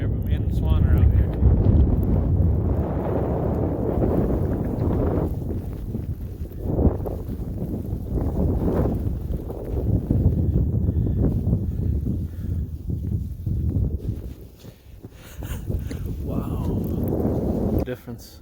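Blizzard wind buffeting a microphone while fat biking through heavy snow in Michigan, a low rumbling gusty roar that swells and dips in waves, with speech likely present.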